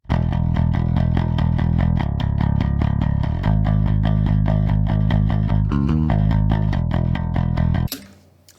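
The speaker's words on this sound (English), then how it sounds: "So, first up we've got the dry DI." Dry DI bass guitar signal plays a steady riff of plucked notes with a firm low end, loud and close, ending with a short burst of noise.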